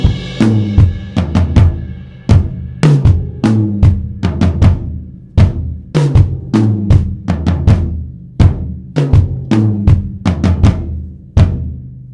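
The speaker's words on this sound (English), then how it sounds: "with the bass drum and the floor tom instead of the bass drum and the cymbal" A drum kit plays a groove on bass drum and floor tom, with loud, evenly spaced booming strokes that repeat in a steady rhythm, close and alone with no voices.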